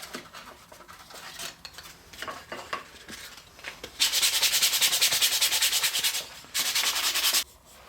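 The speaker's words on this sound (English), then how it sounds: "just give this a sanding, a hand sanding, to take away any of the plane marks" Hand sanding a wooden piece for a child's toolbox to remove plane marks: scattered scratchy rubs at first, then rapid rhythmic back-and-forth strokes, close and clear.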